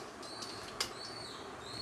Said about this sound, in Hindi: हमारे कबूतर उड़ रहे हैं